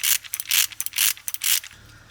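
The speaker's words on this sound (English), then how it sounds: "This is the timing chain tensioner that we are taking off at the moment" Tools work a timing chain tensioner loose from a Mercedes GT63s engine during teardown, giving repeated bursts of close, bright ratcheting and clicking in quick rhythmic runs, with a steady low hum underneath.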